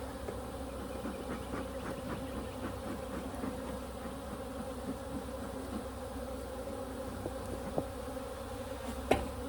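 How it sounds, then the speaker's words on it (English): Honeybees swarm around an opened hive during a Demaree hive setup, a dense, continuous buzzing drone that holds steady throughout with no talking. A sharp click sounds near the end. "the bees are all looking for where they're supposed to be."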